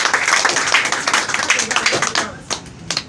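A church audience applauds in a sharp, rapid burst of many hands. It is loud and close, with voices mixed in, then thins to a few scattered claps at the end.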